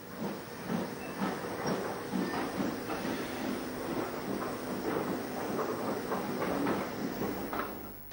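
A steam tank locomotive, No. 41294, pulls away with an evening passenger train to Guildford on a 1960s British branch line, giving a steady rolling rumble with hissing steam and faint wheel clatter throughout.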